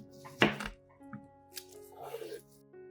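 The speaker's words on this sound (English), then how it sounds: "Continue cutting the melon horizontally to create square pieces." A knife cuts a ripe, juicy watermelon into square pieces, giving one sharp chopping thunk followed by quieter cuts and knocks against the board, with soft background music.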